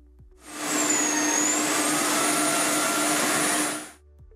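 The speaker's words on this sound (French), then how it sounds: "Le séchage à air chaud est un processus court mais bruyant." A loud, steady whooshing hum of the hot-air dryer on a Tineco Floor One Stretch S6 wet-dry floor washer runs continuously for a few seconds, starting and stopping abruptly.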